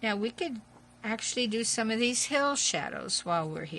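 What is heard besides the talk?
No distinct noise like a dog, phone or traffic.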